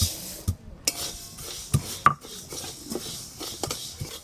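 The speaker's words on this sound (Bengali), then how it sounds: "শুকনো কড়াতে মুগের ডালগুলো ভালো করে একটু নেড়ে নেব।" Raw moong dal is stirred in a dry pan, making irregular scraping and light clattering knocks of a spoon against the metal, fairly close and with no talking.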